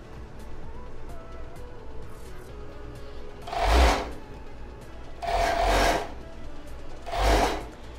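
Overlock sewing machine stitching around the edges of a bra strap, three loud bursts of motor whir around four, five-and-a-half and seven seconds over a low room hum.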